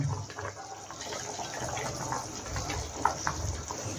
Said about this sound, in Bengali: এটা আমি জলটা আমি মিক্সি ধোয়া জলটা এর মধ্যে দিলাম।